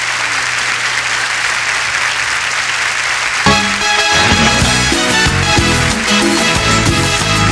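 A studio audience at a Spanish-language TV variety show applauds in a dense, steady wash of clapping for a few seconds. Loud music then kicks in and carries on beneath the fading applause.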